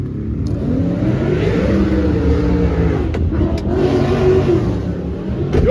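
A 1956 Chevy engine with an X-pipe exhaust revs loud and close, a steady rough rumble that rises and falls through several throttle blips with no talking over it.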